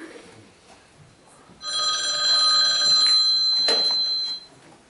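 A telephone rings on stage during an amateur theatre play in Primorsko, Bulgaria, a loud electric bell trilling continuously for about three seconds after quieter room sound.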